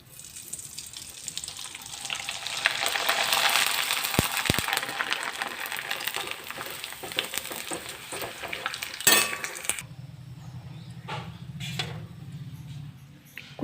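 Kurdai and papad fry in hot oil, giving a steady close sizzle with scattered clinks of utensils. Part way through the sound shifts to a quieter, lower bubbling.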